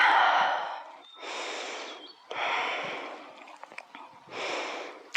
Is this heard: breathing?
yes